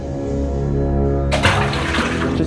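A stone is thrown into the clear water of Guthikonda cave, and a sudden broad wet splash breaks in after a quiet, humming stretch. The rushing water noise then carries on close and loud to the end.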